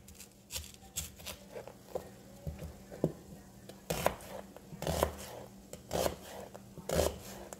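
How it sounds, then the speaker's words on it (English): An onion is cut up on a board for a homemade dressing, with irregular knife chops, some close and sharp, others softer, spread across the span with small kitchen clatter between them. "I'm going to cut up my onion"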